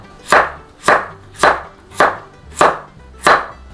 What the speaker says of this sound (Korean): 이렇게 하셔서 깍둑 모양으로 잘게 썰어 주세요.